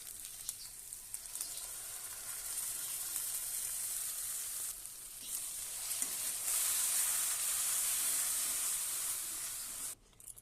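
Ground spice paste dropped into a hot pan over fried onion and ginger-garlic paste sizzles loudly and steadily, a dense hiss that swells slightly before cutting off abruptly near the end.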